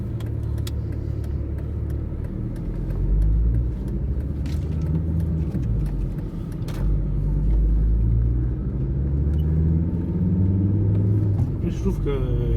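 A Volvo S60 2.4D diesel car pulls under load while driving, a steady low engine rumble and road noise inside the cabin with a rising and falling drone, and someone talking over it.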